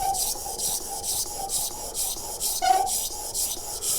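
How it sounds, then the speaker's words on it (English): A hand plane iron blade rubbed back and forwards on a wet sharpening stone, a steady, rhythmic gritty scraping with regular strokes, close and clear with no talk. "we're just going to drop the blade onto the stone, and we're just going to rub that backwards and forwards"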